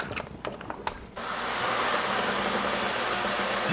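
An ultrasonic cleaner switches on after a second of quieter handling noise and runs with a steady, loud hiss while cleaning greasy small parts from a 1970s Craftsman 3/4-inch ratchet and socket set.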